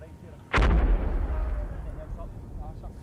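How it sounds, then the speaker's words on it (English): Mortar round exploding nearby in Afghanistan, a single sharp, loud blast followed by a long, low rumbling decay. "Mortars coming in, and they're going to come in really close."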